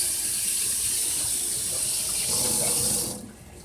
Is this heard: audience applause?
no